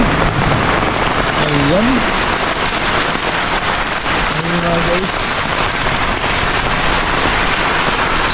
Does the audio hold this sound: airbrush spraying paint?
no